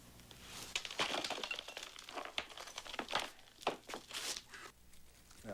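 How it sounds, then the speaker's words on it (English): Plastic bag crinkling and crunching as a light bulb is broken inside it, with repeated irregular rustles and crackles, close and moderately loud, no talk. "Now place it inside the plastic bag. Now break the bulb."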